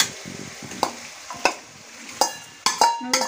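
Marinated chicken stirred and fried in a pan, a steady low sizzle broken by sharp scraping clacks of a spatula against the pan, several distinct strokes spread through the moment, fairly close and without voices.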